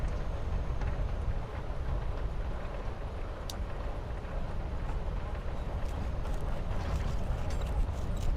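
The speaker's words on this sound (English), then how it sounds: "You're on a freaking train with Rachel freaking Amber." Dense, steady rumble of a train interior from the video game Life Is Strange: Before the Storm, a continuous rattling roar with occasional faint clicks and no talking.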